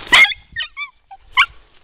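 A dog gives close, loud barks and yips in a short uneven series, a sharp bark first followed by whining yelps and another bark.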